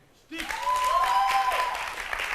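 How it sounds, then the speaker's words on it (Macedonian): An audience at a song contest breaks into loud, sustained clapping and cheering for a competing team, rising suddenly and holding steady, with a few voices calling out over it. "Да слушнам аплауз за Штип?"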